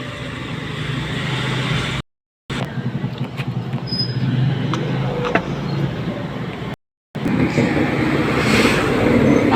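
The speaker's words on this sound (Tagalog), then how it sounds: "Truck na lang dumaan." A truck rolls along a road in a steady, loud rumble of engine and tyres, cut by two short silent gaps, and the noise grows slightly toward the end.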